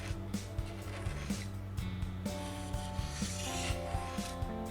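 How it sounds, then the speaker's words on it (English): A razor blade scraper, its edge burred and masking tape on either end, scrapes a guitar soundboard in short, close, rhythmic rasping strokes. "And then we'll scrape with the razor blade."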